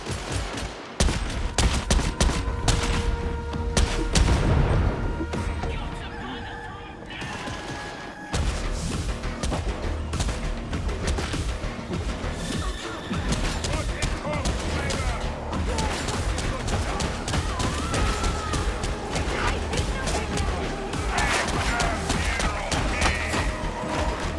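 Heavy stubber fire from an Ogryn in Warhammer 40,000: Darktide, dense sustained bursts with crashes and thuds of battle layered over the whole stretch, plus brief voices mixed in.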